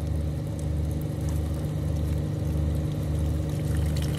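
Water rushes steadily through the pipes of a domestic heating system, a continuous, fairly loud gurgling flow with a low pulsing undertone that sounds close by and carries alone, with no voices.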